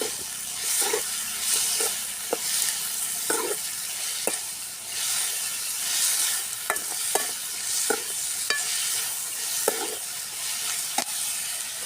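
Peas, onion and salt sauté in a pan with a loud, continuous sizzling hiss, broken by occasional taps and scrapes of stirring.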